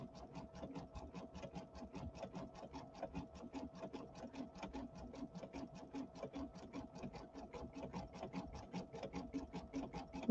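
An embroidery machine stitches an in-the-hoop ironing pad with a steady, fast, even needle rhythm at low level, running alone without talk.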